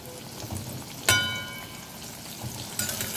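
Pumpkin slices frying in hot oil in a wok, a soft steady sizzle with one sharp crackling burst near the start and another spit toward the end.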